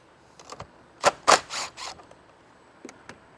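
A ratchet with a 10mm socket loosens the main-power bolt to the BCM on a 2024+ Mustang GT during a supercharger install, giving several close, short clicking bursts in a quiet space.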